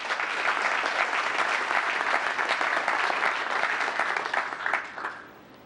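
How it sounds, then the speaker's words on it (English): An audience at a mayor's forum applauds town council members with a full, dense round of clapping that holds steady and then fades out toward the end. "Let's give this group a big round of applause."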